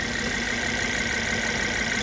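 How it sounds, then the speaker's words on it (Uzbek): A Mercedes car engine idles steadily nearby, a continuous even hum with a faint mechanical tick and no voices over it. "Motor ishlashini qarang, mana."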